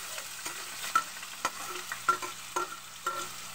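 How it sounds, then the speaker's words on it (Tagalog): Beefsteak cooking in a hot pan, a soft sizzle broken by repeated scraping stirs at irregular intervals, close and fairly quiet with no talking. "Magluluto po ng beef stick yan, mahal."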